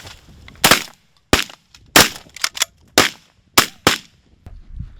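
Shotgun blasts ring out during a late-season mallard duck hunt, about eight loud, sharp shots fired close by in irregular quick succession with quiet gaps between them.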